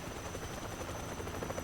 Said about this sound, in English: Weird how that helicopter isn't really screwing up that bridge right now.